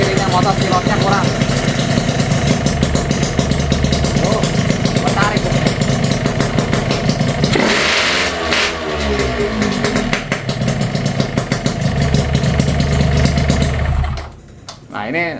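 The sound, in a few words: Yamaha RX King motorcycle engine running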